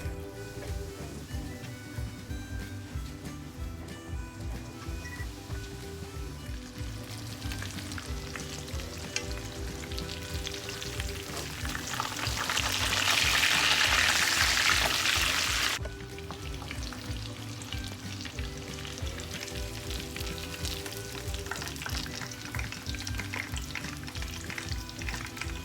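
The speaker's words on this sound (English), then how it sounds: "I'm going to fry the cutlet" A cutlet frying in a pan, a steady crackling sizzle throughout that swells louder for a few seconds midway before settling back.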